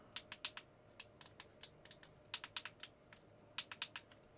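Crisp clicks from the replaced buttons on a Logik LHDR15 DAB radio, pressed repeatedly in quick bursts of two to four sharp taps with short pauses between, close and alone in a quiet room.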